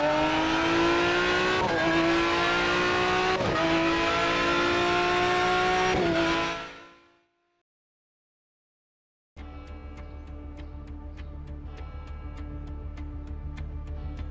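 Race cars in a sim racing video game during qualifying: loud, steady engine drone with rising revs, a fade to silence, then another engine returning with ticking clicks, no talk.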